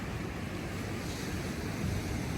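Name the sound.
waves of the incoming tide on the beach, Sabang, Palawan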